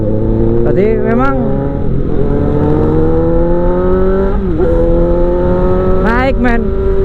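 A Kawasaki ZX-25R motorcycle engine revs in a steady high-pitched drone, with sharp rising blips of the throttle repeating, while someone talks over it.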